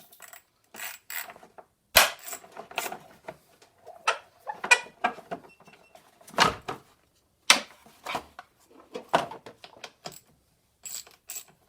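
Hand tools clink and clatter while the battery box and battery are taken out of a Ford Focus engine bay, a string of close, sharp metallic taps and knocks separated by short pauses.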